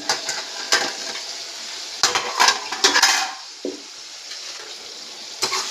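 Ridge gourd softening in a pan, with a spoon stirring and scraping against the metal in a few distinct bursts over a steady low sizzle, close by and with no talking.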